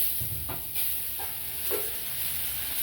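Onion roasting in a pan for a Maharashtrian masvadi recipe, a steady soft hiss and sizzle with a few faint stirring scrapes, continuous and close, no talking.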